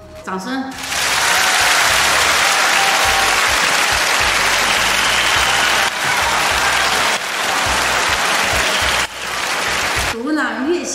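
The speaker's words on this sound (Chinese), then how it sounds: "掌声。" An audience at a live guzheng performance breaks into loud, sustained clapping that fills about nine seconds before fading, with a voice speaking briefly at the start and end.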